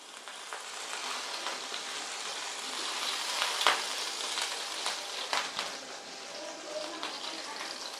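Green chilli frying in a pan, a bright steady hiss of hot oil with occasional stirring clicks and scrapes, moderately close and fairly quiet.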